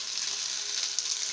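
Food frying on a tawa griddle, heard as a short, even, close hiss of sizzling with no voices.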